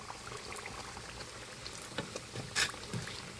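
Samosas in homemade wrappers bubble in hot oil with a faint, continuous frying crackle and a few small pops, quiet and close.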